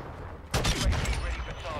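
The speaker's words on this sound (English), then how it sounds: "Shot in the back by a sniper." Gunfire in the Call of Duty video game, a sudden loud burst of overlapping shots that breaks in midway and then rattles on briefly at close range.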